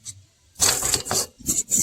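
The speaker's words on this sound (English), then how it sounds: "And then I'm going to spray all around this" Short hissing bursts of silicone lubricant spray aimed around the base of a Winegard TV antenna, three close, loud spurts of aerosol with brief pauses between them.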